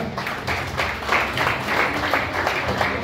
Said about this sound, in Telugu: సూపర్, చప్పట్లు గట్టిగా